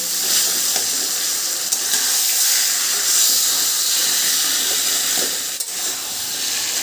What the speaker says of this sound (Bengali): এবার আমি ভালো করে নাড়াচাড়া করে নেব।